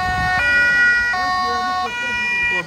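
Ambulance siren wailing nearby on a road outside a mosque opening in Bosnia, clear repeated rising and falling tones over traffic rumble, with a voice briefly underneath.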